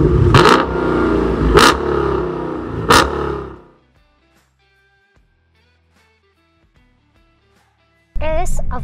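A Dodge Challenger with a 6.4 engine revs hard three times in a row, loud and close, then drops to near silence before the engine roars up again at the end.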